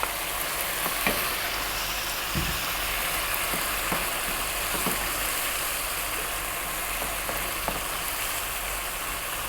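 Tuna sizzles in a pan with broken-down tomatoes, a steady loud frying hiss with a few soft knocks and clinks as it is stirred in.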